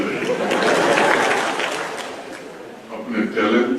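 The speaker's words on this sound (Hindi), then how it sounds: "तो ये सभागार में ताली बहुत जोर से बज रही है।" Loud, dense applause fills an auditorium during a medal presentation to schoolgirls, steady throughout with a brief dip before swelling again near the end.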